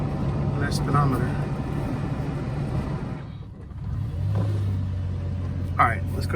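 A 1981 DeLorean DMC-12 with a faulty speedometer drives in the rain, its engine and tyres giving a steady low rumble and road hiss, with talk over it and a brief dip midway.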